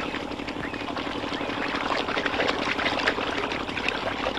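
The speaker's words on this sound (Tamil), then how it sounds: "குடத்தை வாங்கிட்டு போய் தண்ணி புடி" Water pours into a pot in a steady, continuous stream, a fairly loud, close gushing and trickling that runs unbroken from start to finish.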